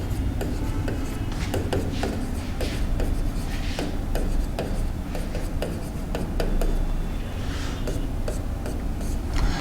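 Chalk or marker tapping and scraping on a board during a physics lesson on torque, a run of short dry ticks and rubs over a steady low room hum, no talk.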